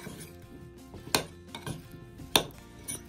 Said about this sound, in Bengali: আলুগুলোকে খুব ভালো করে আমি তেলের মধ্যে মিশিয়ে নিয়ে